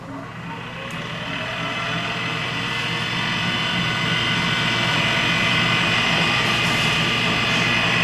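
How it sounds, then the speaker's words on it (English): An electric pottery wheel motor under repair runs with a steady, even whir carrying a thin whine, holding close and constant and growing slightly louder, with no talk over it. "There's a weird whirring noise in there, but it's fine."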